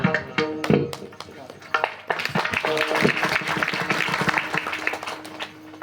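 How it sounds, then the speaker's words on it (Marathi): An audience at a kirtan in a temple setting breaks into clapping. Scattered claps come first, then a fuller burst of applause builds and holds at moderate loudness, with voices mixed in. "आता तुम्ही टाळ्या वाजवल्या"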